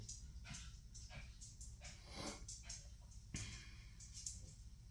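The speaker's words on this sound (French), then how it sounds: "C'est mon chien que vous entendez derrière." A dog whimpers and gives a few soft yips and barks in the background, fairly faint behind someone speaking French indoors.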